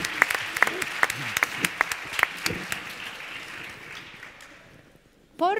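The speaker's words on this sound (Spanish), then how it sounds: "Aplauso." Audience applause at a business leadership talk, scattered claps that thin out and fade, followed by a voice speaking at the end.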